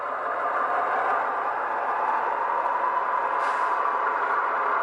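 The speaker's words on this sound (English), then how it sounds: "You have great sounds like the dynamic brake fans." Steady, rushing fan roar of a model locomotive's dynamic brakes from a Soundtraxx Tsunami 2 sound decoder, a constant airy whoosh with no voices.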